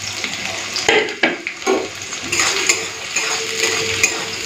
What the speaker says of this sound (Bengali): পেঁয়াজটা হালকা ভেজে নিই